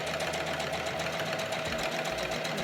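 Steady, fairly quiet mechanical hum and rapid needle chatter from a sewing machine stitching down a face mask seam over elastic, running continuously without talk.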